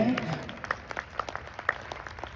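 An audience at a Hindi poetry recital in Sikar breaks into scattered, uneven clapping that continues through the clip, with a voice briefly heard at the start and a steady room hum underneath.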